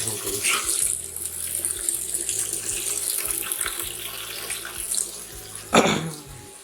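A water tap runs and fills a container, a steady hissing splash throughout with some soft background noise, ending in a brief louder splash.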